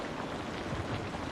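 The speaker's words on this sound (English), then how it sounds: "listening to the rain beat against the roof, feeling the walls shake with the wind" Heavy rain beating on a roof, a steady dense hiss of drops with no break, moderately loud and continuous, with no voices.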